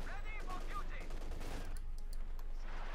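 A Vickers machine gun fires in Company of Heroes 2 amid a chaotic battle mix: dense, faint, continuous gunfire crackle with scattered distant shots and rumble, and a voice talking briefly at the start.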